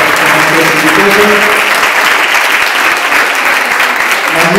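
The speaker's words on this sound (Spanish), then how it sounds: "Un aplauso también a nosotros y nosotras que nos seguimos formando con nuestros institutos." Audience at a talk applauding, a dense, steady wash of clapping that holds loud and unbroken from start to finish.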